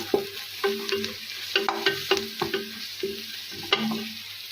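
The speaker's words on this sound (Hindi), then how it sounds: "अब हम इसमें ऐड करेंगे लहसुन की पेस्ट, ये ऐड कर दें। इसे भी डालकर हमें अच्छी तरह से भून लेना है।" Garlic paste and browned onions sizzle in a pan for a chana dal, with a steady frying hiss under repeated scraping, clinking strokes of a spoon stirring close by; no one speaks.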